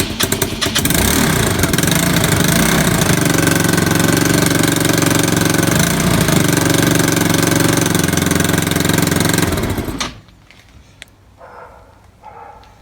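A Kymco Super 8 scooter engine with a loose exhaust runs loud and rattly at a steady idle for about ten seconds, then cuts off abruptly, leaving faint clinks and quiet background.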